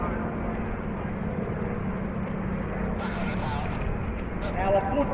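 A Stearman biplane carrying wing walkers in bright red colours flies at an airshow, its engine making a steady broad drone that holds throughout, with a faint rising whine near the end.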